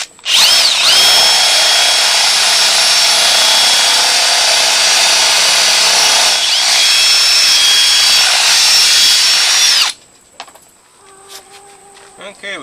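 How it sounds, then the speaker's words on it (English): A power drill bores out two stripped screws on the front wheel bearing hub of a 2003 Chevy Tracker 2WD, running loud and continuous with a high whine for about ten seconds before cutting off to faint clatter. "we got through drilling out the two screws that were stripped"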